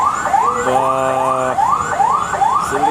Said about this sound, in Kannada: ಅದು ಆಂಬುಲೆನ್ಸ್ ಬಂದೈತೆ ಪಾಪ ತುಂಬ ಟ್ರಾಫಿಕ್ ಆಗ್ಬಿಟ್ಟೈತೆ